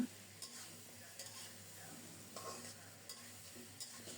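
Mutton curry with potatoes stirred and fried in a pot, a faint, steady sizzle with soft, regular stirring scrapes every second or so.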